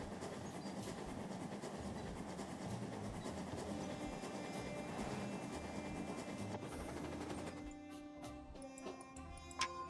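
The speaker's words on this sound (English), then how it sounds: "and the train's going to roll." A train rolls steadily along its tracks in the video game Genesis Noir, with a continuous rumbling clatter that carries on for several seconds before thinning into scattered clicks and rattles near the end.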